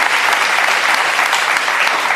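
Audience applause fills a studio during a political cable news interview, steady dense clapping throughout with no speech over it.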